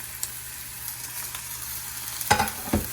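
Ginger, onion and spring onion sizzle in a pan, a steady quiet hiss with a couple of sharp stirring clatters near the end.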